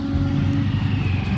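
A car engine idles and hums low and steady close by in a parking area, with a broad rumble and no voices.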